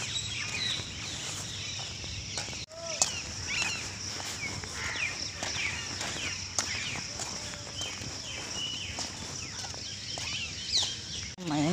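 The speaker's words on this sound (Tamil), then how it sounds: "மைனா சத்தம் வந்துடுச்சு, அப்புறம் வந்து கிளிகள் சத்தம் வந்துடுச்சு" Myna and parrot calls ring out in quick, scattered chirps and whistles on an early morning walk outdoors, fairly faint, with soft footsteps alongside.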